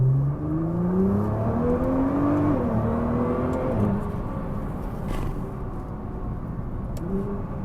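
Nissan GT-R Nismo engine revving and accelerating up through rising pitch sweeps, then dropping back and climbing again, loud and close with a steady, throaty drone throughout.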